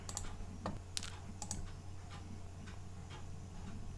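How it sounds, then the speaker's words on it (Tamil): Someone typing a Gmail message on a computer keyboard: sparse, quiet keystroke clicks over a steady low electrical hum, with no voices. "இப்போ வந்து நான் மெசேஜை டைப் பண்ணுறேன்"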